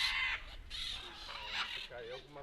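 Macaws call at Buraco das Araras, a sinkhole in Brazil, giving a series of harsh, raspy squawks that overlap and come fairly close and clear.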